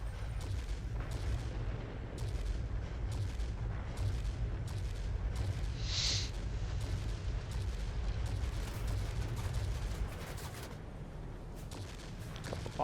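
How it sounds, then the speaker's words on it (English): Bombs dropped from a Me 1099 B2 jet in an air combat game go off as dull distant thumps and booms under steady engine roar, with a brief hissing burst midway. "Couple bombs dropped there."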